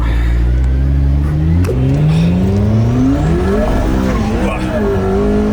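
A McLaren P1 accelerates hard on the Autobahn. The engine note climbs steeply, drops briefly at a gear shift, then climbs again, loud and close, with a steady rush of road and wind noise underneath.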